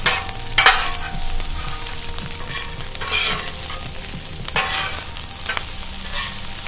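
Fried rice sizzles steadily in a pan on a camp stove, with a spatula scraping and stirring through it in irregular strokes and a few sharper clinks, close and fairly loud, with no voices.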